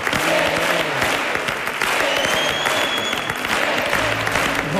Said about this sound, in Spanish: Permítanme que de nuevo este aplauso sea también para el maestro Samuel Cortés.